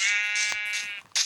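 A sheep in a video game bleats close and clear, a few wavering, nasal calls in quick succession with short gaps, heard alone.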